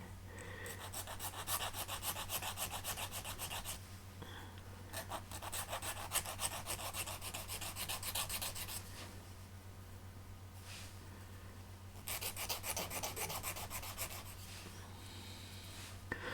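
Rhythmic rasping of a hand file rounding the corners of a wooden model boat part in several bursts of strokes, with short pauses between and a low hum underneath.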